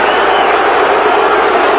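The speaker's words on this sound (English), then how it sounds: "And the Britishers in the crowd react." A loud arena crowd roars and cheers throughout a heavyweight boxing bout between Frank Bruno and Mike Tyson, a continuous dense wall of noise with voices blended into it.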